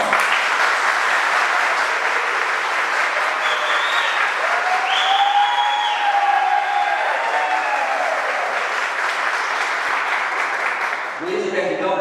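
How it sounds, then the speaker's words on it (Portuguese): An audience welcomes a political candidate at an interview event with a loud, sustained burst of clapping that holds steady for about ten seconds before tapering off into a voice that starts speaking. "recebemos a entrevistada de hoje com uma grande salva de palmas"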